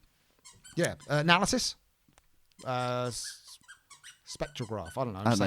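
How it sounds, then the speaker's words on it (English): A dog squeaks a toy, giving one sustained, nasal squeal of nearly half a second between stretches of close conversation, with people talking before and after it. "That's my dog squeaking a toy"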